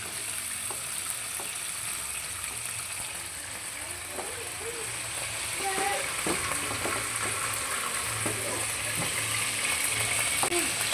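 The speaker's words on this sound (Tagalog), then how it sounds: "Yan, nagigisa pala muna natin yung ating atay." Chicken liver sautés in a pan with a steady, bright sizzle throughout, punctuated by occasional clinks and scrapes of stirring, and a voice speaks now and then over the cooking.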